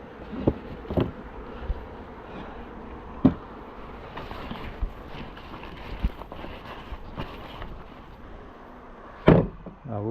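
Honeybees humming during a hive inspection while a swarm is transferred: a soft, steady buzz with a few sharp knocks and bumps from frames being handled, and no voices.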